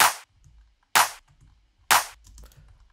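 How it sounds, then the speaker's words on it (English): Three sharp, bright clap samples in an EDM beat land at an even pace about a second apart, each a crisp burst with a short tail and no other sound. "Okay, then I just added some claps."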